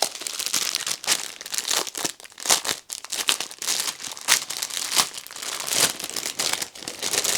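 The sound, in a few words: opening a crinkly plastic pack of diamond art supplies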